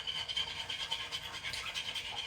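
Eggs being beaten with chopsticks in a bowl during home cooking, a steady fast scratchy whisking rhythm that stays close and continuous throughout.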